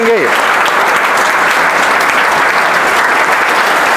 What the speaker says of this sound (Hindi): ताली बजाओ भैया जोरदार, ताली कम नहीं होनी चाहिए।